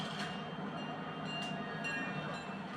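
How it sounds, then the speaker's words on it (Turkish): A train arrives in the video game Fortnite with a steady, loud rumble of rolling wagons, faint clicks and high squeals along the rails, continuous for the whole stretch and without talk. "Tren geliyor."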